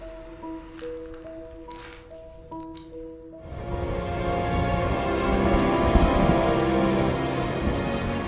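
Steady heavy rain falls, a dense close hiss that swells in after a few seconds of soft tonal music and then continues loud and even to the end.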